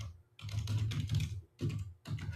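Someone types a prompt on a computer keyboard in quick clustered bursts of close, soft key clicks, with a brief pause between bursts and no speech.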